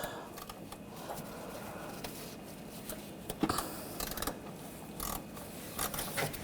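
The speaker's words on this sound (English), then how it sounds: "Using a 10mm socket. Loosen up the bolt." A ratchet with a 10mm socket loosens a bolt on the intake manifold bracket of a 2004–2012 Chevrolet Colorado 3.7L, giving quiet clicking turns and clunks in short bursts, close by in a workshop.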